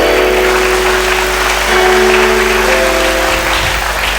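Congregation at a church youth gathering applauding and cheering, a loud, dense wash of clapping and voices that fills the whole stretch without pause.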